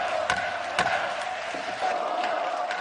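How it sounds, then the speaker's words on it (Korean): Lawmakers in South Korea's National Assembly chamber break into scattered applause mixed with loud shouting from a crowd of legislators, a brief burst of claps and raised voices heard from a distance. "여당 의원들의 박수, 야당 의원들의 고성 속에 공수처법 개정안 가결이 선포됐습니다"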